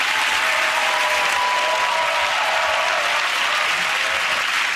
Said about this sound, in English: OK, again, that round of applause for Ed Hugh Milton.